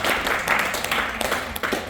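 Audience members clap together at a faculty orientation session, a dense burst of applause lasting a couple of seconds.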